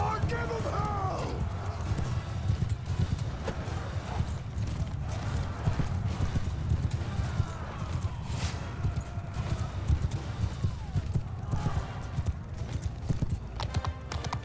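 Horse troop hooves clatter in a Mount & Blade II Bannerlord battle, a dense, continuous clip-clop of many hooves under steady battle noise, with a whinny and other voices mixed in.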